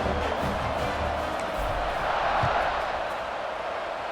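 A college football video game stadium crowd roars before kickoff, a dense, steady wash of cheering that holds at an even level for a few seconds.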